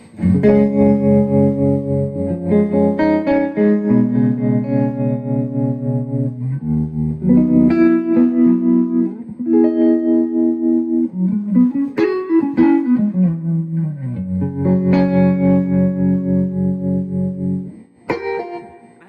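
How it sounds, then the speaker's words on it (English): Electric guitar played through a Milkman Sound The Amp 100 with the boost engaged and reverb, sustained distorted chords and bends in phrases lasting about eighteen seconds, loud and close with no talk. "This is just the Milkman with the boost on, and I'm just using the volume on the guitar"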